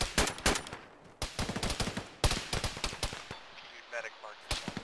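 Gunfire in an Arma military game session, many sharp shots and short bursts crackling at a moderate distance in irregular clusters, with people talking over radio.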